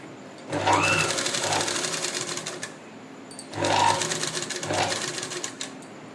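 A sewing machine stitches piping with hidden lining in two steady bursts, each about two and a half seconds long, separated by a short pause; the whirring motor sounds close and fairly loud.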